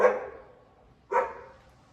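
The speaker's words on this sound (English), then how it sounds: "It's Amazon delivering more parts, and our cuckoo dog just barks at everything." A dog barks at an Amazon delivery with two sharp, fairly close barks about a second apart, each trailing off into quiet.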